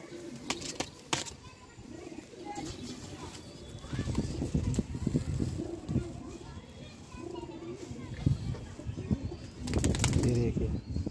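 Pigeons kept by a fancier in Najibabad flap their wings in bursts, with a few soft coos, while people talk close by throughout.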